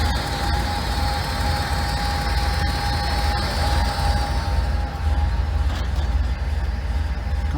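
A Cummins-based 800 kW diesel generator set in a sound-insulating container idles at a warm-up speed of 700 rpm, giving a steady, loud, continuous low drone with a constant whine on top and no talk.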